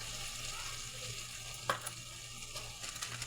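Spices such as green chilli, ginger and cumin pastes with tomato frying in oil for a pangas fish curry, a soft steady sizzle with a few clanks and scrapes of stirring.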